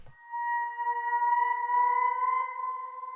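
An eerie, wolf-howl-like texture sample called 'Pit of Sadness', used as an accent in FL Studio, holds sustained, hollow tones that swell and waver gently for about three seconds.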